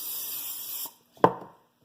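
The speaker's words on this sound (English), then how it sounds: "Then I'm going to spray it with some cooking spray." Cooking spray hisses steadily into a bowl for nearly a second, then stops, followed by a brief clunk as the can is set down.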